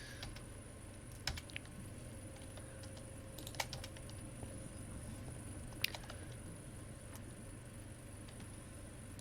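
Typing on a computer keyboard during a Minecraft modpack session gives quiet, steady key clatter with a few sharper clicks over a constant low background hum.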